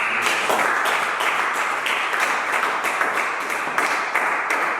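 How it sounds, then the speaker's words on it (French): Congregation in a church applauding, dense steady clapping from many hands filling the whole stretch, loud and close with a few faint voices underneath. "Acclamons Jésus."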